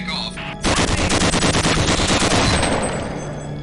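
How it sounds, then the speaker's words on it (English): Rapid automatic gunfire from a mechanical gun in the video game Gunman Chronicles, a loud burst of dense metallic shots after a brief lead-in, tailing off into reverberant decay. "the mecha gun sounds brutally metallic and mechanical"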